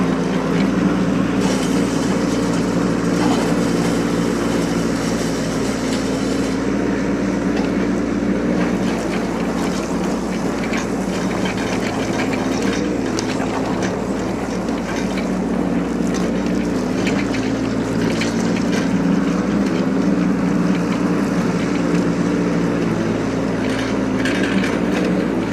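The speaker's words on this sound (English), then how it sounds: "this is a BOBCAT E10, expandable track machine" A 2023 Bobcat E10 expandable-track mini excavator engine runs with a constant low droning hum, mixed with outdoor wind noise throughout and no speech.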